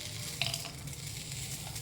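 Tempering spices for pulihora fry in hot oil, a soft, continuous crackling sizzle heard close up, with a faint clink early on and no speech.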